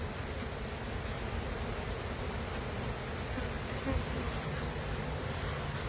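Honey bees buzzing around an open hive during an inspection, a dense continuous hum of many insects, steady and close throughout.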